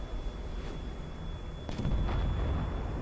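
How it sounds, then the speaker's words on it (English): Enemy SAM launchers fire in the War Thunder tank game, heard as distant rumbling booms and launch bursts over a steady engine drone, with a heavier thump late on; no talk. "Sounds like there's enemy Sam shooting at our guys"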